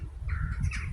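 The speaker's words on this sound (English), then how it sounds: "You hear those birds calling you." Outdoors on a windy day, a crow-like bird gives a hoarse caw over a heavy low wind rumble, brief and moderately distant.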